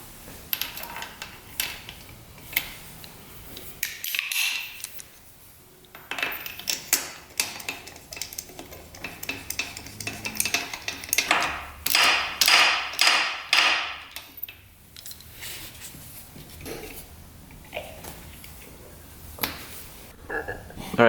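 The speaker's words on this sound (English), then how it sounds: "we've got a brand new spark plug going in" A new spark plug is threaded and tightened into a dirt bike engine, with uneven metallic ticks, taps and ratcheting clicks close by, coming in bursts with short pauses between.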